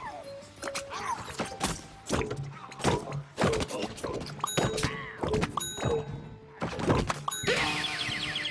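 Gunfire and impact effects from Plants vs Zombies Garden Warfare on Xbox One, a busy stream of punchy thunks, dings and pops with ringing tones, fairly loud and continuous.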